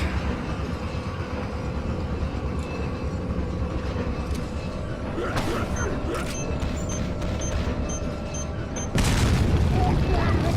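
Grenade launcher explosion in Resident Evil 4: a sudden, heavy boom cuts in near the end over continuous game rumble and mechanical noise, while someone talks.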